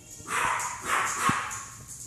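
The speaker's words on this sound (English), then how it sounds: "We have a big dog that just came in the room." A big dog in a room lets out a couple of close barks, short and moderately loud, with quiet room sound between them.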